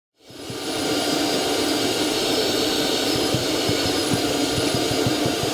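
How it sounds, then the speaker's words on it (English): A Tornador air blower hisses in a loud, steady roar while blasting hair out of a GMC Denali's interior during detailing, starting abruptly and holding constant with faint rattling pulses underneath. "Blow up most of this with a Tornador."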